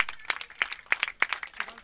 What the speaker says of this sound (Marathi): अरे मित्रासाठी टाळ्यांचा गजर करा, टाळ्यांचा आवाज येऊ द्या.